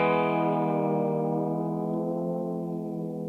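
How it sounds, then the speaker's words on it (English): A single sustained electric guitar note rings with a rich, distorted tone, its pitch sagging slightly as a whammy bar loosens the strings, fading gradually over a few seconds. "some guitarists also have a tool called a whammy bar"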